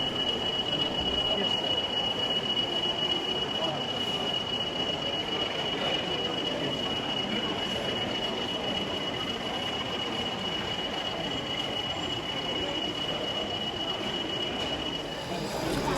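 An OO gauge model DRS 37402 diesel locomotive moves off a stabling point at a busy model railway show, its steady mechanical running and rail rumble continuous beneath constant crowd chatter and hall noise.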